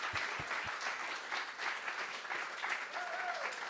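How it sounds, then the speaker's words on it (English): An audience applauds team members at a Halloween event, a steady wash of many hands clapping at moderate distance, with a few thumps near the start. "Let's give them all a round of applause."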